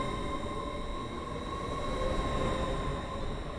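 An Air Link passenger train of ten coaches runs through Stepford Central in a video game, giving a steady, loud rolling rumble with a sustained electric whine.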